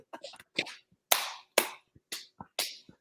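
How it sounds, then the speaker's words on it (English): Hands clapping in a rough rhythm, a run of sharp, close claps, some doubled and some single, with short gaps between them. "We got to keep clapping and talking"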